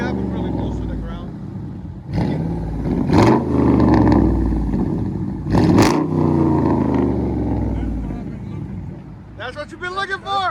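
A pickup truck's V8 revs through a 5-inch exhaust, two sharp throttle blips rising out of a steady deep idle, with people chatting close by and over the engine.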